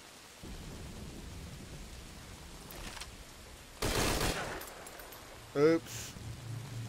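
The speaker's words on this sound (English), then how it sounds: "Identify gunfire." Gunfire in the video game Metal Gear Solid V: Ground Zeros, a burst of rattling shots at mid-clip followed by a sharper crack, over rainy, stormy ambience with a character talking.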